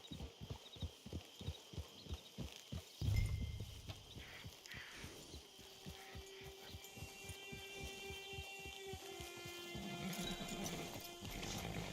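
Steady clip-clop of horse hooves trotting close by in Red Dead Redemption 2 Online, a regular rhythmic beat that briefly pauses with a thud before resuming under a faint ambient hum.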